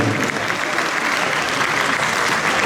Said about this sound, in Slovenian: če se damo en aplavz za vso organizacijo